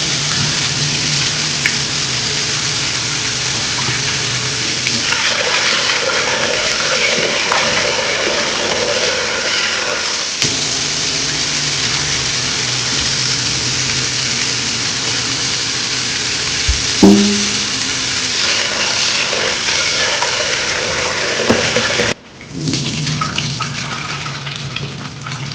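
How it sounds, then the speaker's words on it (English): Water runs and splatters over chicken liver being washed, a constant hissing patter with a few small knocks and clatters, and a brief break near the end. "Go ahead and wash that liver off."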